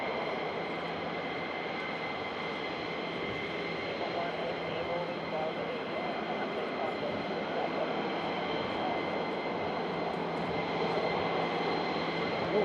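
Tanker aircraft flying near RAF Lakenheath, heard as a steady, continuous broadband jet roar that holds evenly throughout at moderate distance, with no talk over it.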